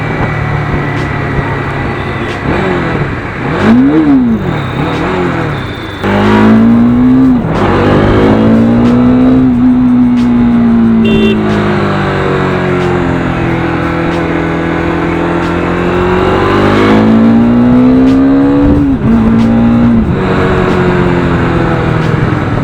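A Bajaj Dominar 400 motorcycle engine of 35 PS revs hard and close, its pitch climbing and falling through repeated throttle blips and sustained pulls over about twenty seconds with no voices.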